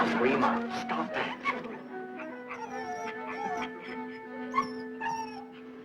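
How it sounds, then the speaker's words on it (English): A dog whimpers and whines in repeated high, wavering cries, with scratching at a door mixed in, fairly close and prominent over a quiet room. "Martha, that dog is just scratching that door to pieces."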